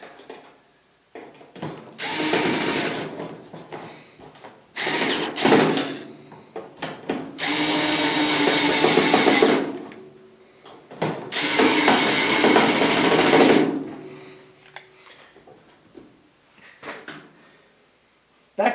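A power tool drives the screws that secure the power cord on an LG dryer, several bursts of whirring with gaps between them, close and fairly loud, with brief clatter and handling noise in the pauses.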